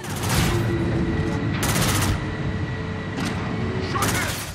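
A player's gun fires in the Call of Duty Infinite Warfare campaign, loud rapid bursts layered over continuous battlefield rumble and explosions, close and intense throughout.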